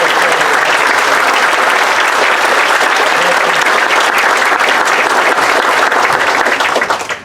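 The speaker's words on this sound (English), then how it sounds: "we need to give them another round of applause" Sustained applause from an audience at the grand opening of the Carolina Nonwovens plant in Maiden, North Carolina, honoring Jim and Joel; loud, dense clapping throughout that tapers off at the very end.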